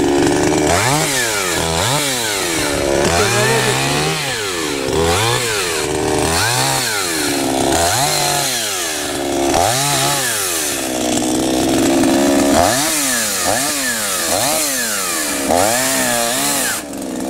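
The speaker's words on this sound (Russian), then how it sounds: "Сразу пили его." A chainsaw cuts wood while tidying up a rural homestead, its engine loud and close, revving up and dropping back in a steady rhythm of repeated cuts that runs through the whole stretch.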